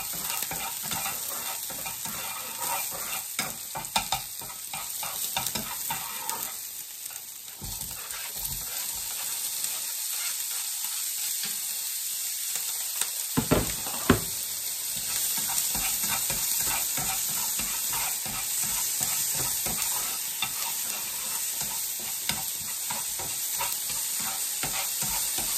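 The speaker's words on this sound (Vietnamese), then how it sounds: "Mình phi hành cho nó vàng lên một chút rồi mình sẽ cho thịt" Shallots and pork belly frying and stirred in a hot oiled pan, a steady close sizzle with scraping stir strokes running throughout, a brief quieter dip midway, no voices.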